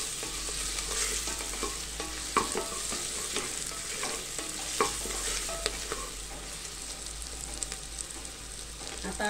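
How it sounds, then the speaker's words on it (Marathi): Mutton fat sizzles in hot oil in a pan, a dense, steady frying hiss with frequent scraping and clattering stirs, close up and with no voices. "तेलामध्ये आधी ही चरबी परतवून घ्यायची आपल्याला।"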